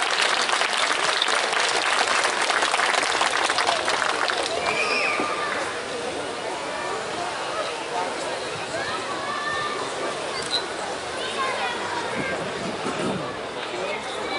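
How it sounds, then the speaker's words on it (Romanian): Audience applause at a stage gala in Fălticeni, a dense sustained clapping that fills the room for several seconds, strongest at the start and easing slightly, with a voice talking over it. "Haideți să-i mai aplaudăm o dată"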